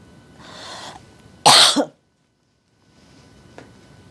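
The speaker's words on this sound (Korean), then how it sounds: "왜 기침이 날까요?" A single harsh cough up close, preceded by a soft breath and followed by quiet with a faint click.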